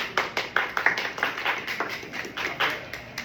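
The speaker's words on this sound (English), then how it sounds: "Good, clap it up." Several people clap in a classroom group activity, a quick burst of irregular hand claps spread over a few seconds, moderately close with no talk over it.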